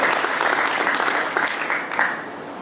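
Many hands clap at a business conclave as panelists are welcomed, a loud, dense burst of audience applause with a few sharper individual claps, tapering slightly toward the end.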